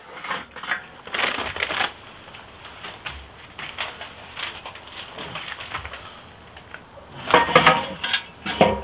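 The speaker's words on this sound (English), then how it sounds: "Gonna go ahead and put the basil, sage, and thyme on there." Dried basil, sage and thyme from a bag dumped onto lit charcoal briquettes in a grill, giving scattered crackly rustling bursts with clinks, loudest near the start and again toward the end.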